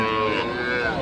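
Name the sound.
cow mooing at cattle market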